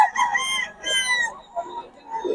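Chickens at a wet outdoor market cluck and crow in short, close, overlapping calls, with a few distinct bursts over about two seconds.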